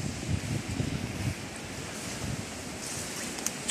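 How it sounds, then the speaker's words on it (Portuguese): Wind buffeting a microphone outdoors around a small house swallowed by woodland in Esposende, Portugal, a loud continuous low rumble with gusty surges throughout. "Desculpem o vento, a galera."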